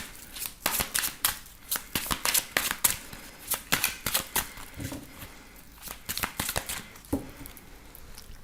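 A deck of tarot cards is riffled and shuffled by hand, a series of quick, close, crisp flutters and snaps arriving in an uneven rhythm of bursts with short gaps between them; no talking.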